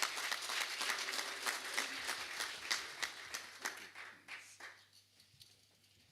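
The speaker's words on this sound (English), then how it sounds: "Let's give him a round of applause." An audience at an infrastructure handover and commissioning ceremony at Otavi, Namibia, gives a round of applause, a moderately distant burst of clapping that thins out and fades over several seconds, with a low steady hum beneath.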